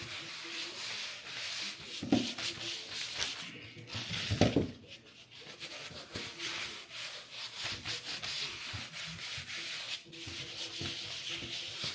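Steady abrasive rubbing and sanding on a lamp being refinished, a continuous gritty scraping that runs close and fairly loud, with a couple of brief pauses and heavier strokes.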